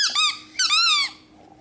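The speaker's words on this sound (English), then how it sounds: "And then the other side is squeaky." A squeaky rubber puzzle dog toy gives two loud, bright squeaks in quick succession, close and alone, then quiet.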